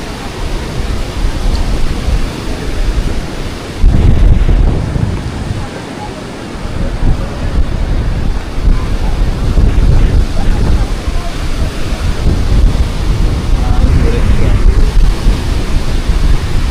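Strong waves at Boracay beach in habagat season, a loud continuous roar of surf with heavy wind buffeting the microphone, close and unbroken throughout.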